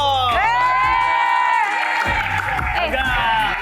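Studio audience on a dating game show cheers and claps, a lively crowd roar with high whoops and shouts filling the room, loud and sustained.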